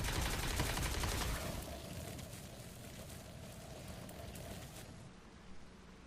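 An SMG fires in a video game, a dense, loud burst of rapid automatic shots that trails off into a lower rumbling clatter, with no talk over it.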